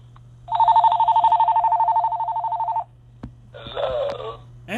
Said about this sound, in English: Now that we got a phone in the background